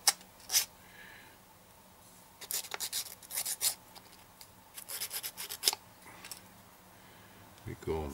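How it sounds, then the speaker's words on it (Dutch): Sandpaper rubs a small part of a Rokr classic gramophone kit in short, close scraping strokes, coming in irregular bursts with pauses between them. "Een beetje schuren."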